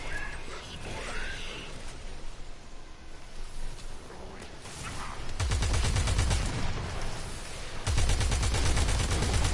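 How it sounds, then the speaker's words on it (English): Arcwing gun in the video game Warframe firing in loud, rapid sustained bursts, a rattling automatic stream that starts midway and repeats after a short pause, over a background of game ambience. "okay, so here's my Arcwing gun"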